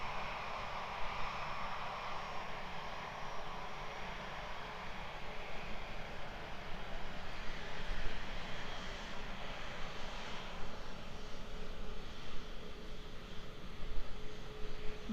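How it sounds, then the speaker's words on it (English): Steady broadband roar of a Singapore Airlines Airbus A350's jet engines at Christchurch airport, heard from a distance at the airfield, holding fairly constant and swelling slightly toward the end, with no voices. "Look at that beautiful A350. What a great look at that machine"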